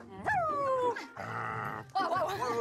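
A person imitating a dog, giving a few whining, growling bark-like vocal sounds up close, in short bursts with brief gaps between them.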